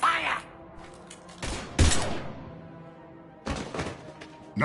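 Bursts of gunfire from a Mass Effect 3 firefight, a few sharp volleys separated by quieter gaps, fairly faint overall, with brief game voices around them.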